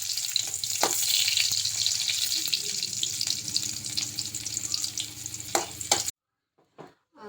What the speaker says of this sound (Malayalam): നന്നായി മൂത്ത് വരണം നന്നായി ഇളക്കി കൊടുക്കാം